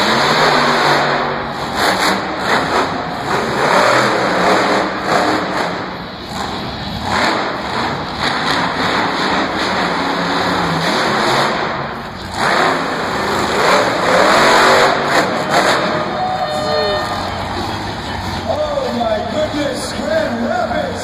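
The Max D monster truck's engine roars and surges with repeated throttle revs through a timed race, loud and continuous, while an announcer talks over it.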